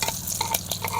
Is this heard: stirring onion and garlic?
yes